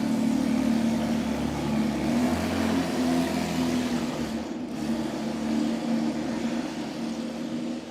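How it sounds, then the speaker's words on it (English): A 2011 Porsche 911 GT3 RS with a 4-liter engine driving in at an auction: a steady, fairly loud engine drone with a low hum and slight shifts in pitch. "Lot 252 is the 2011 Porsche 911 GT3 RS 4-liter."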